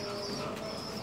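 Young domestic pigeons, squabs kept for fattening, cooing close by in a loft, a soft low continuous coo over a steady background hum, with no talk.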